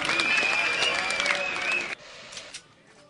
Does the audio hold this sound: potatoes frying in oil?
no